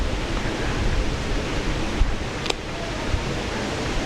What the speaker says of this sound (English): The wind's picking up.